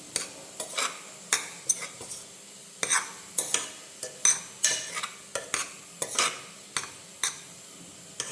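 A spoon scrapes and clacks through thick spicy mushroom gravy in a pan, a dozen or so sharp irregular strokes over a soft simmer, close and clear with no talk.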